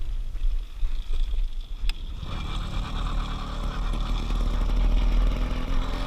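A small motor on a motorized bicycle climbing its first real uphill, a low buzzing chug over wind noise and clatter that grows steadier and louder after a couple of seconds.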